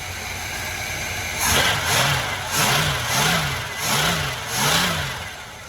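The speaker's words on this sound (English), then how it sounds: "So the engine's been running for about 5 minutes now." A 1981 GMC Sierra engine with a carburetor needing work runs after long storage, idling with a rough, pulsing rhythm: about five regular surges in loudness, close by.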